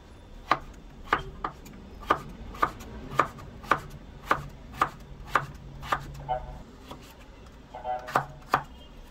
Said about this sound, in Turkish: 5 adet orta boy yaklaşık yarım kilo kadar patatesi kabuklarını soyup videoda gördüğünüz gibi ortadan ikiye bölerek doğrayalım